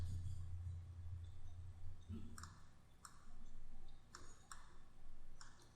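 A computer mouse clicked during photo editing work, a handful of faint, sharp clicks spaced irregularly with low background hum and no voices.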